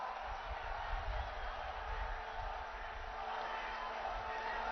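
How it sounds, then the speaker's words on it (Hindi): Large outdoor crowd applauding at the Kalki Dham foundation-stone ceremony in Sambhal, a steady, distant wash of clapping held at an even level throughout. "जोरदार तालियों से स्वागत, अभिनंदन, वंदन, नमन।"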